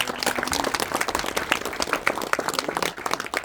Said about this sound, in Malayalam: നിങ്ങളെല്ലാവരും അദ്ദേഹത്തിന് നല്ലൊരു കൈയടി കൊടുക്കണം